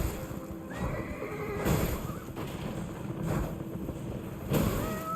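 A horse in Elden Ring neighs and whinnies several times over rapid clip-clop hoofbeats, loud and close, with the galloping rhythm continuing steadily beneath the calls.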